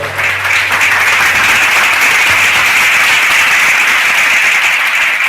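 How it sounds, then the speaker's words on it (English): Audience applause for quiz contestants at a live university club event, a dense, steady wash of many hands clapping close by that fills the whole stretch without letup. "A round of applause for them"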